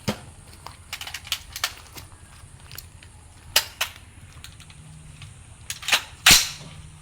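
Gunshots from a gun fired after a magazine is loaded: a handful of sharp, loud cracks spaced irregularly, with a heavy final blast near the end over steady outdoor background noise.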